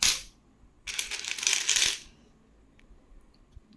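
Indian coins from the Hyderabad mint clink and jingle as they are handled, a brief metallic rattle followed by a longer burst of shuffling and clattering coins, close and fairly loud with quiet gaps between.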